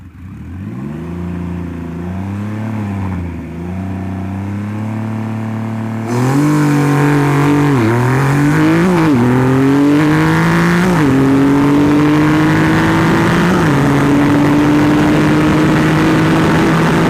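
A Triumph Rocket 3 motorcycle at a drag race, revving hard and then launching, with a loud, sustained engine roar that climbs through several gear shifts. No voices are heard.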